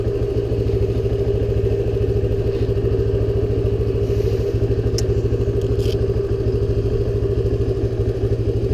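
A 1978 Honda XL175 motorcycle engine idles warm, loud and close, with an even, rapid thumping pulse that holds steady throughout and a few faint clinks in the background.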